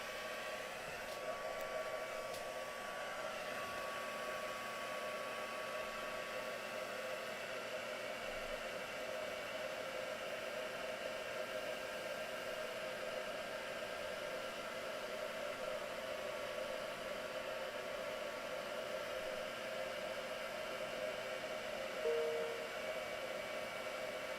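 A handheld heat tool blows hot air in a steady, unbroken whooshing roar with a faint high whine, running close and constant for the whole stretch without speech.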